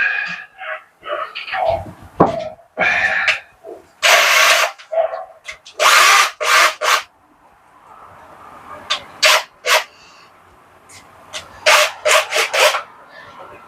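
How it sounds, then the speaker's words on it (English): Short bursts of a power drill with a small bit whirring, several spurts in a row with pauses between, close by, alongside handling noises and a voice talking. "little drill bit"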